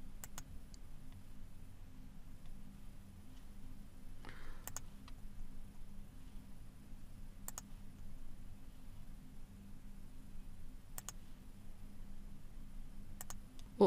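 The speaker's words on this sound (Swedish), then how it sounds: "Och sen tar jag och klickar på förhandsvisa." Sharp computer mouse clicks, several spaced seconds apart, sound crisp and close over a faint low room hum, with a soft brief rustle in between.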